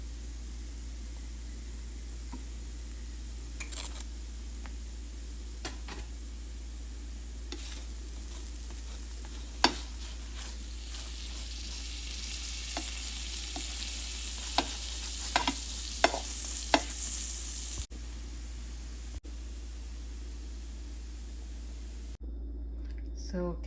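A cabbage and carrot thalipeeth fries in a pan with butter added on top, a soft steady sizzle under a quiet hiss with scattered clicks and scrapes of a spatula; a voice speaks briefly.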